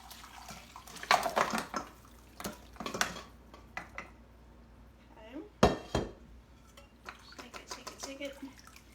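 Homemade Instant Pot bone broth is poured through a strainer into a bowl at a kitchen sink, with irregular splashing, trickling and clinks of metal and dishware, bursts of clatter rising and falling.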